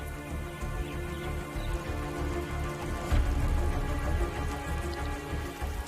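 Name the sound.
monsoon rain falling in Sri Lanka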